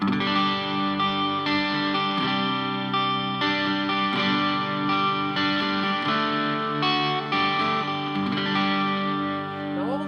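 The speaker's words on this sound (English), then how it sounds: "when you double the delay, it gets really, really nice old-fashioned" Sustained electric guitar chords through a doubled delay effect on a Boss ME-90, thick and echoing, notes ringing and overlapping in repeated trails, loud and continuous without speech.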